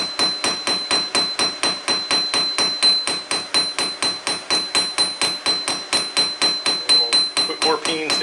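Hammer blows peen hot steel on an anvil while forging a round-and-flat taper, striking loud, close and steady at an even rhythm of roughly three or four ringing hits per second, with no pauses.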